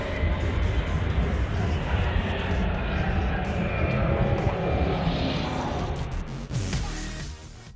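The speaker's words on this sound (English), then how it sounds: "It looks like we are on the runway in the airport with the sounds coming from the real airport" Aircraft engines roar from a real airport beside an aviation museum, a loud, broad, continuous rumble that swells and fades slightly as planes move.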